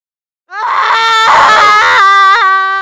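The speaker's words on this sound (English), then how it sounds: "My mother's scream wakes me up." A woman screams loudly and close up, one sustained, strained cry that starts abruptly and wavers in pitch as it continues, with no other sound around it.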